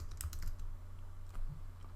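Quiet keyboard typing while dummy text is entered into a Photoshop 2020 document, soft irregular keystrokes at a low level over a steady low hum, with no voices.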